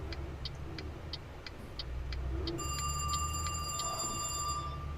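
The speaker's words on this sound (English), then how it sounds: "And ignore that, that's my house phone." A house telephone rings over the steady hum of a truck engine in the Euro Truck Simulator 2 driving game. The ring enters midway as a sustained electronic warble and repeats several times under a continuous engine drone, after a run of earlier regular beeps.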